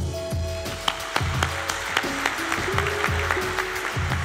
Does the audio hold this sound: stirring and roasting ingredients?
no